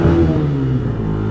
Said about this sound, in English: Just give the engine a go.